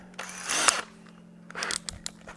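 Power drill spinning a paddle bit into wood while building an anvil swage block stand, in two short bursts of whirring and chatter separated by a pause, close and moderately loud.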